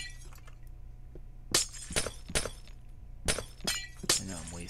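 Glass blocks shattering one after another as a pickaxe breaks them in Minecraft, about five or six sharp crisp breaks in quick succession, close and fairly loud over a low steady background hum.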